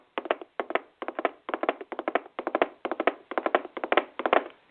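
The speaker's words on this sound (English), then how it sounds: "I clap." Hands clap in quick bursts of three to five, the groups repeating in a loose rhythm. The sound is thin and narrow-band, as if heard over a radio broadcast, with no talk.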